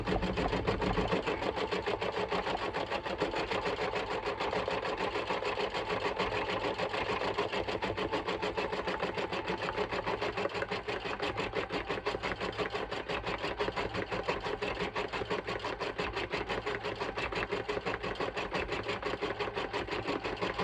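An embroidery machine stitches a Halloween design, its needle hammering in a fast, steady, even rhythm with a constant mechanical hum throughout, close and uninterrupted by talk.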